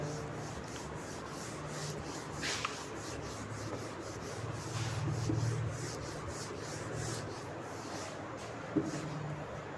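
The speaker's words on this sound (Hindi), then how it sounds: "चलिए मैं इसको रब कर देता हूं" Chalk being rubbed off a classroom board during a maths lesson: a steady, continuous scrubbing rasp, close and moderately quiet, swelling slightly at times and sounding alone without talk.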